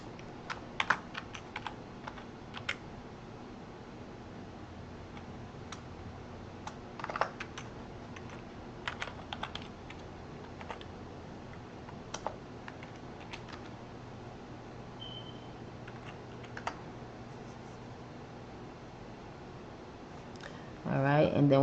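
Typing on a computer keyboard while entering figures for a tax course: scattered, irregular key clicks spread over about twenty seconds, quiet and close, with a louder burst at the very end and no talking.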